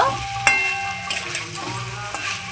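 Fried cauliflower and potato pieces tossed back into hot spiced oil give a bright sizzle, with a sharp clink from a spoon and a few lighter taps as they are stirred, close by and without voices.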